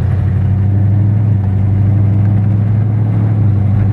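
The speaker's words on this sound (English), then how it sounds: "Car seems to upshift" A 1968 Dodge Coronet 500 V8 fed by a single Edelbrock carburetor hums steadily under load while driving, a strong low engine drone holding even throughout with no clear break for the gear change.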